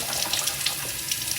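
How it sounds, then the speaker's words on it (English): Tap water runs steadily into a bathroom sink while a face is rinsed, a continuous close splashing hiss with no talk. "Now I'm gonna rinse my face really quick."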